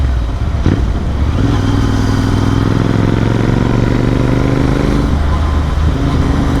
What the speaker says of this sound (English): The exhaust.